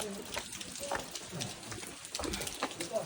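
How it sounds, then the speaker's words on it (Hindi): Rain falls steadily in a busy outdoor setting, a diffuse hiss with scattered patters, while people talk and move around nearby. "बारिश आ गई, बारिश में तो जाना आना"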